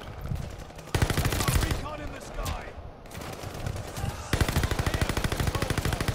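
Rapid automatic fire from a Marco 5 gun in Call of Duty: Vanguard, with long rattling bursts of evenly spaced shots close to the listener, briefly broken by short pauses and mixed with a talking voice.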